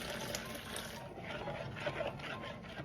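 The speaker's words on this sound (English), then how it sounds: "Mix in a cup of boiling water" Boiling water is poured into lemon jello powder, a soft, continuous liquid rush that stays faint and even throughout.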